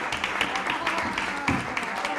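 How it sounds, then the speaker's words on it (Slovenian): Dense, steady applause from a book-launch audience, fairly close and continuous through the whole stretch, with a voice faintly mixed in. "še dajte sebi en aplavz"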